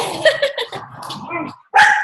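A small puppy gives a few quick, high yappy barks at close range, interrupted by a brief pause before a sharper bark burst.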